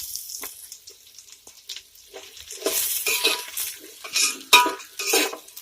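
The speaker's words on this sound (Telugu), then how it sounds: "ఇందులో 1 కప్పు సన్నగా పొడుగ్గా కట్ చేసుకున్న ఉల్లిపాయలు వేసుకోవాలి" Thinly sliced onions tipped into a hot pan for prawn pulao, with scraping and stirring, clinks of a spoon against metal, and a sizzle that swells in bursts.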